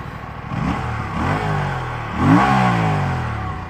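An Aprilia RS 457 parallel-twin DOHC motorcycle engine revs up twice, rising and falling in pitch with a throaty mechanical growl, close by and loud.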